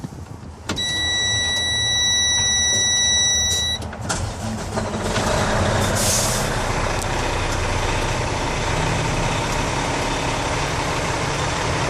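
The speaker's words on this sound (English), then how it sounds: "So let's go ahead and fire it up." A Freightliner 114SD roll-off truck's diesel engine cranks and catches over a high electronic chime, then settles into a loud, steady idle close by.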